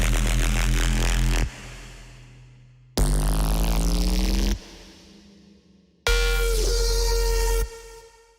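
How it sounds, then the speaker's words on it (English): Growly, aggressive distorted synth bass built from sine, saw and square waves in a dubstep style, heard as three loud sustained blasts of about one and a half seconds each, each with shifting harsh overtones and a short decaying tail, no voices. "I was just trying to make some sort of growly, angry bass sounds, kind of like Scata by Skrillex"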